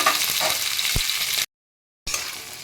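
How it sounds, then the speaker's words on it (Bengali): Okra frying with sautéed onions in a pan, a loud close sizzle with a soft knock of stirring, cut by half a second of silence before the hiss resumes. "ভেন্ডিগুলো আমি একটু ভেজে নেব।"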